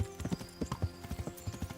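Horse hooves clip-clop in a steady walking rhythm in the medieval game Kingdom Come: Deliverance, each fairly close and distinct hoof strike repeating across the stretch with no talk over it.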